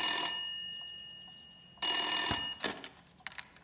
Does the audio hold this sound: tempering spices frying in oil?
no